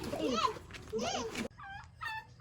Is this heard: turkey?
yes